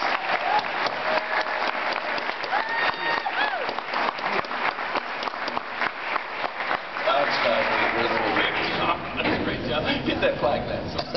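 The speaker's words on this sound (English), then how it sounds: "let's give him a big Redbird applause" Audience at a Fulton High School 1963–65 class reunion applauding, dense sustained clapping that swells louder near the end, with a voice speaking over it.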